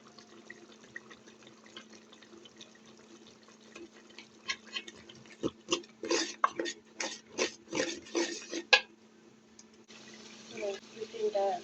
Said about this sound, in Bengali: এখন মশলাটা আমি নেড়ে দিব